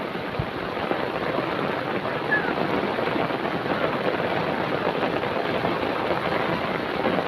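Rain falling, a steady dense hiss of drops that stays even and fairly loud throughout with no pauses and no voices.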